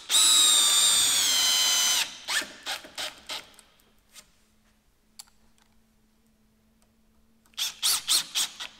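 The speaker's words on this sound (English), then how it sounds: "This is the new Bosch 18-volt FlexiClick GSR 18V" A Bosch 18-volt FlexiClick GSR 18V cordless drill driving 6-inch GRK lag screws into timber without pre-drilling whines loudly for a couple of seconds, then short clicking bursts and ratcheting pulses follow, with quiet gaps between.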